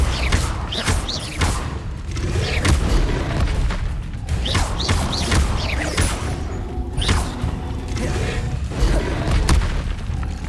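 Incendio fire spells cast in Hogwarts Legacy, heard as repeated loud booming bursts and thuds in quick irregular succession, with no talk over them.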